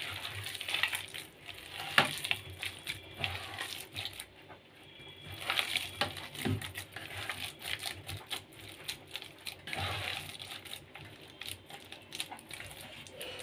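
Chopped banana flower fries in hot oil in a wok, giving a steady close crackling sizzle with scattered pops and scraping stirs throughout, and no talk over it.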